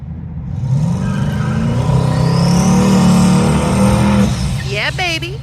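Twin-turbo Camaro doing a burnout at a drag strip: loud, sustained engine roar with a steady droning whine for several seconds, easing off near the end as squealing tire chirps and a voice briefly come in.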